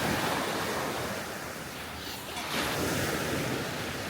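Sea waves wash steadily onto a clear-water tropical beach on Koh Lanta, Thailand, a continuous broadband surf roar with a slight lull in the middle before swelling again, with some wind noise and no talking.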